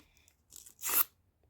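A short crinkly rip as a plastic packet is torn open, preceded by a faint rustle, then quiet.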